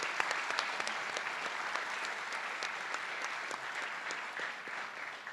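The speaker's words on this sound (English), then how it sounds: "Big round of applause for Emily." A crowd claps for a student athlete at a school board meeting, producing a sustained wash of applause at moderate level with a few sharper individual claps standing out near the front.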